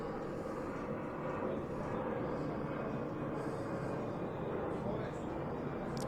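An airplane passing overhead gives a steady, broad roar that holds at the same level the whole time, loud and close, and it swamps the background.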